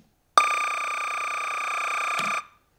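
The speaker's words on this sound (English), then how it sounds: "this is what an LTC file sounds like" An LTC timecode signal plays as a loud, steady, buzzy electronic tone lasting about two seconds, with a harsh dial-up-modem quality and an abrupt start and stop.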